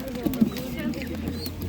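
Pigeons coo softly in a low, throaty murmur at an animal market, mixed with nearby voices talking over them.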